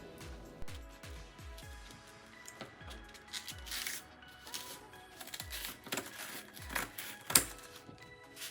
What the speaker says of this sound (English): Now let's cut them into 4 equal parts, first in the center and then each piece again in the center.